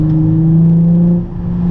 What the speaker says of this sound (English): Just listen to the sounds of this engine.